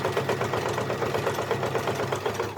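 Sewing machine stitching bunting fabric, a steady close mechanical whirr with a fast even pulsing rhythm that runs without a break and with no talk.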